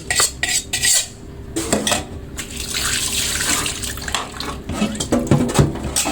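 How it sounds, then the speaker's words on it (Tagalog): Dishes and cutlery clatter as a pan used for frying dried anchovies is washed at a running tap, with water splashing steadily and sharp metallic clinks scattered throughout at close range. "Tara yung pinaglutuan ko ng dili. So, hugasan ko na rin."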